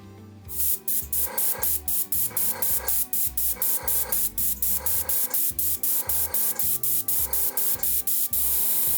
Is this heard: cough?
no